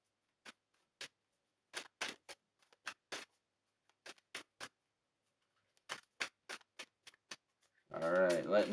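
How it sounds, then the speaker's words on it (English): Tarot cards being shuffled by hand, a run of short, crisp riffling snaps and flicks in scattered bursts close by in a quiet room, before a voice starts speaking at the end. "if you see me keep shuffling, that I'm waiting for the universe to pull a card"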